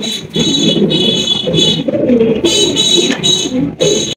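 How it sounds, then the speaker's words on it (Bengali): A pair of Damascene pigeons with original boat-shaped beaks coo steadily and close up, soft rolling coos repeating throughout with faint chirps between, and no talk over them. "এখানে রয়েছে একজোড়া দামাসিন কবুতর, অরিজিনাল বোট ঠোঁটের দামাসিন"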